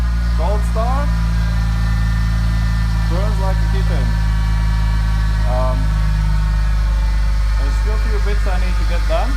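Old beater drift car engine idling after a cold start, a steady low hum with deep rumble, heard close under intermittent talking.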